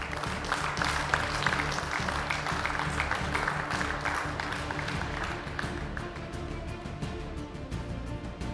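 A crowd applauds a billiards champion at a women's open final, with steady, dense clapping that holds for several seconds and then thins out toward the end.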